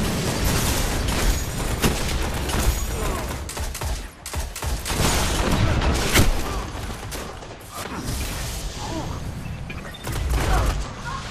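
Golden Gun super fire in Destiny: Rise of Iron during an Iron Banner match, loud gunfire blasts and explosive booms under dense game noise, with players talking over it.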